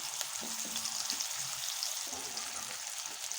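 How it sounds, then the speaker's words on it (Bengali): Radhuni seeds and long-cut potato pieces hit hot oil in a Bengali home kitchen, giving a steady, close, bright sizzle with a few soft stirring clinks underneath and no voices. "বাকি তেলের মধ্যে আমি দিয়ে দিচ্ছি রাঁধুনি ফোড়ন, আর দিচ্ছি কেটে রাখা আলু"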